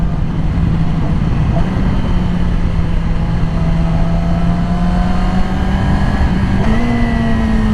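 Yamaha R6 sport motorcycle riding with a loud, steady engine drone and wind rush at close range, the engine pitch shifting slightly as the rider brakes.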